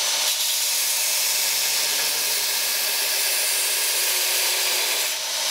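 A belt grinder grinds a false edge on a steel knife blade, giving a continuous bright, hissing abrasive rasp at close range that holds steady before easing off near the end.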